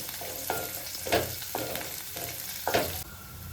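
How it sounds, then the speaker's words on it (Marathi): Onion frying with cumin in a pan for potato rice, a steady sizzle broken by several scraping stirs of a spoon at irregular intervals, close and moderately loud with no talking. "कांदा चांगला भाजला पाहिजे"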